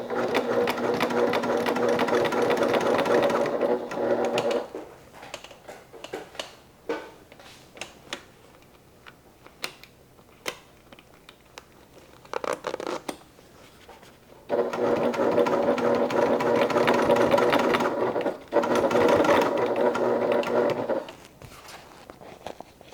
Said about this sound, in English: and then we will stitch